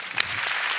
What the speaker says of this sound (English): Let's give a big round of applause for Brian Greene and Richard Dawkins.